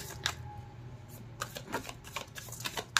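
Soft papery riffling of tarot cards being shuffled, several quiet bursts close by in a calm indoor space, with no voice over them.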